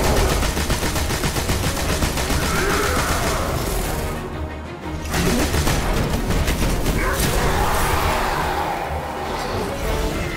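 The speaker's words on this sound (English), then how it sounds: "Eat machine gun!" Machine gun fire in Destiny: House of Wolves, a continuous loud rapid stream of shots at close range that barely pauses in the middle before resuming, with crashes and impacts mixed into the barrage.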